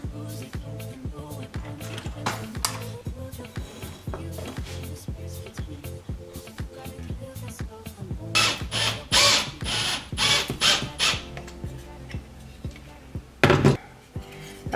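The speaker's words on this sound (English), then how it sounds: "the first thing you want to screw together are your 2 support pieces" Deck screws driven into wood shelf support pieces: bursts of power-driver whirring mixed with clicks, knocks and rattles, close and fairly loud, with a louder run of driving near the end and brief talk.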